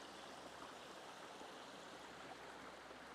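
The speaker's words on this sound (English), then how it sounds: "Got a lovely little bubbling beck." A small bubbling beck in the Lake District fells runs as steady, close broadband water noise, an even trickling and burbling wash that carries on without a break and with no voices over it.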